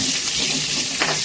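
Curry leaves sautéing in a hot pan while cooking pepper garlic rice, a steady close sizzle with light stirring throughout, no talk.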